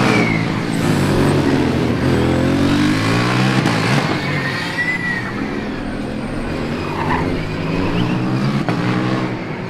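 The Stralsund team's Formula Student race car engine roars and revs nearby during an endurance event at Formula Student Germany 2025, its pitch sweeping up and down as it accelerates past, steady and loud throughout.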